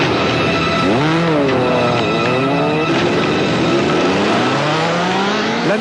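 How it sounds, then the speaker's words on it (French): A powerful 140-horsepower motorcycle revs hard on the Paris Périphérique, its loud engine sweeping up and down in pitch through several rising gear pulls, close and continuous throughout with no voices. "Les 140 chevaux de sa puissante moto se déchaînent."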